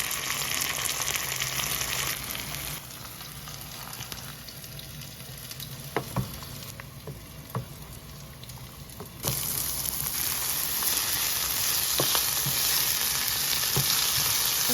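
Ginger, garlic, curry leaves, peppers and tomatoes fry in a pan with a steady, bright sizzle, broken by a few sharp utensil knocks and stirring scrapes; the hiss dips briefly midway, then returns louder.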